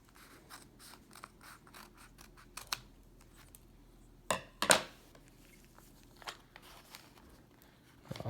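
A Magic: The Gathering card pack is cut and torn open nearby, with a few soft scissor-like snips followed by a sharp crinkly rip of foil wrapper, then light rustling, all quiet and close.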